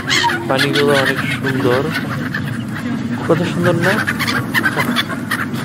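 Seabirds squawk and honk in a noisy flock beside the sea in Malta, loud, layered calls running throughout while a person talks over them.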